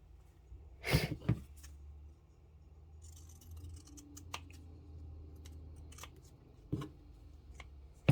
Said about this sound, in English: Need to get my fabric scissors.